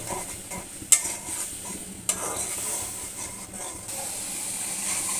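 A turmeric, chilli, ginger and garlic spice paste fries in a pan with a constant steamy hiss, two sharp spatula clanks and softer scraping stirs close by, no voices.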